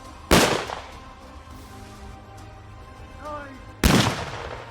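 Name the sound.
sniper rifle shot at competition target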